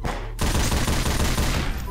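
Fireworks volley in Garry's Mod bursting after a brief quiet moment, a dense rapid crackle of many pops and bangs, loud and sustained.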